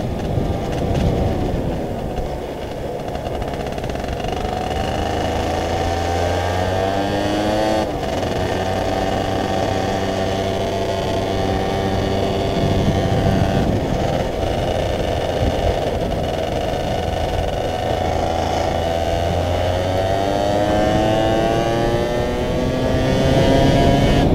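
An MBK Spirit moped engine revs and accelerates, a loud, continuous close-up drone whose pitch climbs and falls through repeated pulls under steady wind rush.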